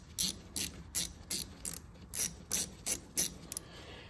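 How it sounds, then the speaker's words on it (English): About ten crisp ratchet clicks come in a steady rhythm as a 5 mm tool tightens a rear brake pad bolt on a 2009 Police Special motorcycle, close and clear with no talk. "So now I'm going to tighten it up. Again, using a 5 mil."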